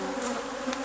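Honey bees buzz steadily around a honeycomb frame being brushed off outside a shed, a close, continuous droning hum with no voices.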